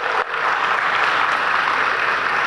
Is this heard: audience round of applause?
yes